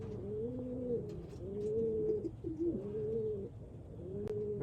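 Racing pigeons coo in soft, low, repeated rolling calls, several in a row at a steady pace, close by and fairly quiet with faint background noise.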